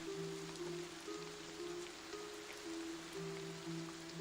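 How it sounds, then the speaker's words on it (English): Steady rain pattering at a distance, a soft continuous hiss with faint low humming tones beneath it. "though you can still hear the pitter-patters of the rain behind you"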